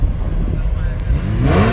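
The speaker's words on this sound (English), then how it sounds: "Look, another Porsche pulling up." A Porsche pulling up at a supercar event, its engine a loud low rumble that swells toward the end, with people talking over it.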